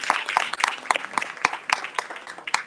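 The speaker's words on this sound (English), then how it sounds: "Can we give him another round of applause?" A small audience at a family financial empowerment summit claps for a speaker, distinct individual claps in an irregular rhythm, close and fairly sparse rather than a full roar.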